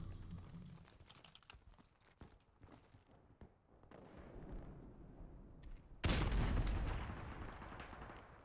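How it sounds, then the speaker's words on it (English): Gunfire from an MP5 in Call of Duty: Modern Warfare Remastered during a competitive 3v3 match, with quieter game noise first and then one sudden loud burst of shots near the end. "He shot me two times with the MP5 from long"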